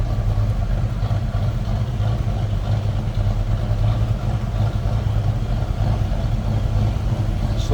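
A 1967 Ford Mustang convertible's 289 V8 idles after a cold start, a steady deep rumble with a slight lumpy, cam-like pulse, close and continuous with no talking.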